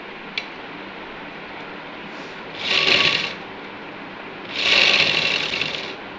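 A sewing machine stitches the hem of a housecoat in two short bursts of rapid, whirring running, separated by a quiet pause, close and clear.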